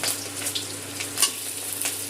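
Fish roe fritters frying in hot oil: a soft, continuous sizzle with scattered small crackles and pops, fairly quiet and close, with no talking.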